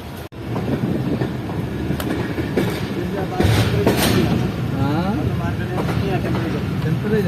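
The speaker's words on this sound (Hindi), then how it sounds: "हमारी ट्रेन निकल रही है दादू रेलवे स्टेशन से" A train departing Dadu railway station in Pakistan rumbles and clatters along steadily, with rhythmic wheel noise and occasional clanks under a loud, continuous ride; a voice speaks partway through.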